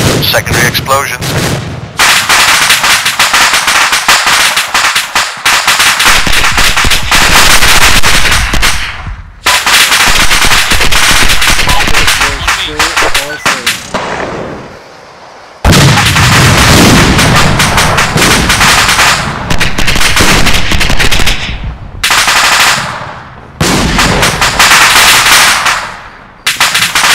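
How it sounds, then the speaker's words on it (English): Mortar rounds burst one after another during mortar training, loud booming blasts with rumbling tails that repeat every few seconds, broken by brief quiet gaps. "Secondary explosions."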